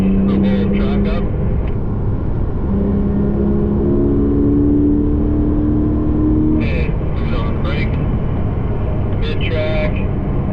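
Race car on the CTMP circuit: a steady engine drone holds throughout, rising in pitch through the middle as it accelerates, with a voice talking over it.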